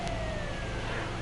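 An ambulance siren in GTA 5 Online, a wailing tone sliding steadily over loud engine and road rumble, close and continuous with no speech.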